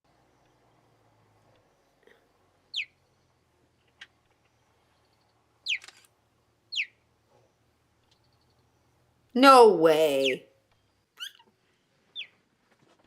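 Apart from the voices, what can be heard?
cheetah chirping like a bird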